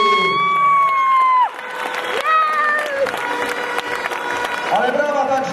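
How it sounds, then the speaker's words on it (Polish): Crowd at an amateur MMA event in Kwidzyn applauding and cheering, a loud, steady wash of clapping and shouts that continues behind an announcer's voice over the hall speakers. "Ale brawa także dla Sławomira Wielońskiego, reprezentant Kwizyna"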